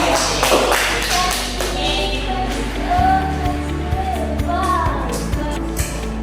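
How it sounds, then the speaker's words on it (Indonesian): Schoolchildren in a classroom break into scattered applause, light taps and claps spread across the room with clearer close claps in the second half, while faint voices murmur underneath. "Tepuk tangan untuk si kelompok 2"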